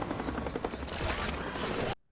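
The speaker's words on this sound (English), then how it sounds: "The way the helicopter came into place." A loud, dense helicopter roar from the animated series Creature Commandos, with a rapid chopping rhythm filling the clip, then cutting off abruptly.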